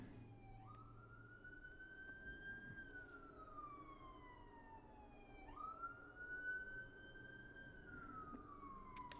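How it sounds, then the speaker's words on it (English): A siren wails outside, rising and falling in two long sweeping cycles at moderate distance, with faint traffic rumble underneath and no talking. "There's another siren,"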